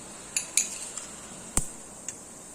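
Mustard seeds spluttering in hot oil for a Tamil tempering, a few sharp pops and crackles scattered over a faint steady sizzle, with one louder burst near the middle.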